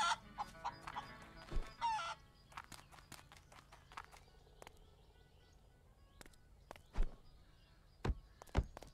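Chickens in the farm game Barn Finders give sporadic clucks and scratchy squawks over a quiet backdrop, broken by a few sharp thumps and scattered steps, with no talking.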